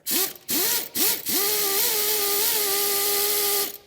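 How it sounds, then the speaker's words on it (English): A puller works a part off a Lexus LS400 engine during a timing belt and water pump job. Three short whirring bursts give way to a steady, close mechanical whine that holds for a few seconds and then cuts off. "So here comes the puller."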